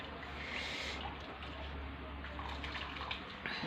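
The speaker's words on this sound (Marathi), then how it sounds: "आता आपण ह्याला एका चाळणीत काढून घ्यायचं आहे पाणी नितळण्यासाठी" Water pouring and draining through a strainer from grated potato, a steady rushing trickle close by, with brief faint drips toward the end.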